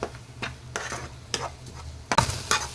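A spatula stirs and scrapes egg podimas, spiced scrambled egg, sautéing in a pan, with soft intermittent scraping strokes over a faint steady sizzle, fairly quiet and close.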